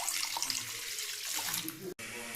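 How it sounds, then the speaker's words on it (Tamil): Water is poured into a glass to measure it for cooking Maggi noodles, a steady splashing stream that fills the whole clip and stops with a brief break near the end, with faint background sounds. "நான் இந்த கிளாஸில் ஒரு கிளாஸ் தண்ணி ஊற்றிக்கிறேன்."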